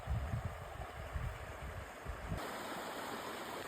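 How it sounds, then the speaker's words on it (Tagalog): Water of a rural river in a farm area flowing over rocks, a steady broadband rush that stays continuous and fairly close, with some low rumbling turbulence in the first half and no talking. "Ayan na mga kabukid ang ilog natin dito sa bukid."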